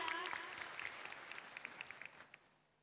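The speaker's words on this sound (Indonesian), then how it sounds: "Oke, tepuk tangan dulu dong biar nggak ngantuk ya." Faint applause from a student gathering at a university orientation event, a dense patter that thins into a few isolated claps as it fades out.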